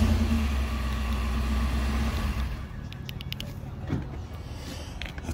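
A flat gray truck on aggressive tires and Moto Metal rims runs its engine on auto start, a low, fairly quiet idle that cuts off partway through, leaving faint background noise.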